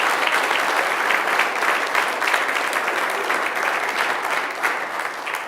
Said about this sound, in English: Can we give a round of applause to this incredible staff?